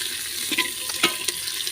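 Green chillies stirred through a biryani pan, steady frying hiss with a few soft scraping strokes of the spoon, close and continuous, no voices.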